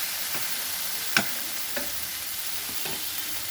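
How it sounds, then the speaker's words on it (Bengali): Salt being stirred into ridge gourd and potato posto frying in a pan: a steady soft hiss with a few quiet scrapes and one sharper clink of the spoon against the pan. "ভালো করে মিশিয়ে দিলাম নুনটাকে।"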